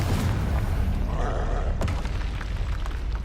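A Confringo blasting spell goes off in Hogwarts Legacy, a booming burst with a sharp crack midway amid rumbling combat noise, fairly loud and unaccompanied by talk.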